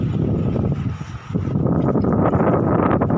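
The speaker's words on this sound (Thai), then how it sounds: "อากาศดีดีแต่เหมือนจะมีฝน เม็ดเม็ดนะครับแต่ลมมาแรง" Strong wind buffets the microphone at Laem Sing beach in Chanthaburi, Thailand, a loud, constant rumbling roar that dips briefly before surging back.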